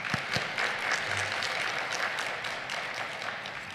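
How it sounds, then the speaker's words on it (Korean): Applause at a Korean church fasting prayer retreat service for the guest pastor after the sermon, a steady crowd clapping in a large hall, moderately distant and sustained for a few seconds. "말씀을 전해 주신 강사 목사님께 감사의 박수 드리겠습니다"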